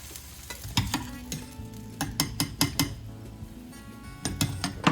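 Pasta frying in heated oil and butter in a pan, a soft sizzle broken by sharp clinks and scrapes of a utensil stirring, in irregular bursts at close range.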